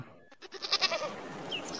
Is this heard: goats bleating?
yes